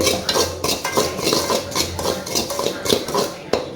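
Semolina being dry-roasted in a pan and stirred continuously with a metal spoon, producing rapid, rhythmic scraping and clinking against the pan, close and steady, with no talk.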